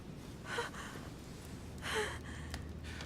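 A woman's heavy, labored breathing in The Council video game, two breathy gasps about a second and a half apart over a low steady background hum.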